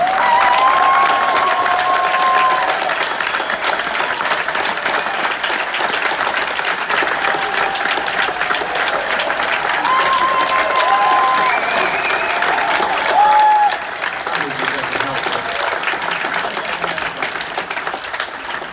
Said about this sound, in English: give Bob Lazar a hand